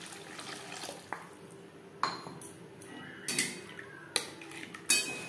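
Water goes into a pan of Bengali mustard-paste chitol fish curry in a home kitchen. Faint liquid sounds mix with several sharp clinks of a utensil against the pan, spaced irregularly and heard close by.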